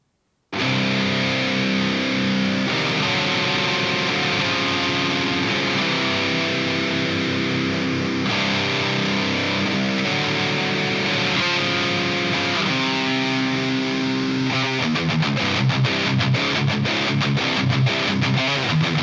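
A single-take distorted electric guitar played through an amp simulation plugin sustains a loud, thick, saturated tone that shifts chords throughout and ends with fast chugging strums, with no voice present.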